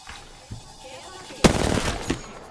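Gunfire in a live-streamed video game, a sudden loud burst of rapid shots after a softer lead-in, close and sharp.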